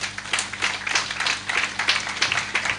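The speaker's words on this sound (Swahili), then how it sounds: "Pigeni huyu msichana makofi" A congregation at a church service claps for a girl, giving a dense, ragged run of hand claps that rises and falls in bursts, near and lively, with no speech over it.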